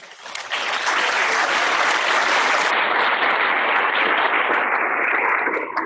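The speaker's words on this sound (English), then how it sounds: "Let's give them a round of applause." An audience at a panel discussion on climate change breaks into a sustained round of applause, loud and dense, swelling quickly and holding steady for several seconds without speech.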